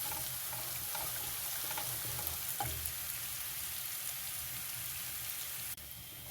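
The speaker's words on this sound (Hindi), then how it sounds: "अभी हम इसको अच्छे से सौते कर लेंगे अदरक लहसुन को।" Steady crackling sizzle of ginger and garlic sautéing in a hot pan, with faint scraping of stirring, continuous and close.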